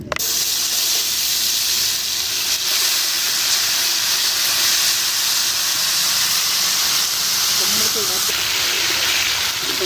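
Marinated chicken hitting about a cup of hot ghee on a tawa, giving a steady loud hiss and sizzle that fills the whole stretch with little change.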